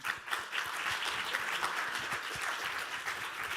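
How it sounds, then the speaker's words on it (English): An audience at a medical symposium applauds continuously, a dense, even clapping heard at moderate distance with no talk over it. "I think we do the evaluation just by applause"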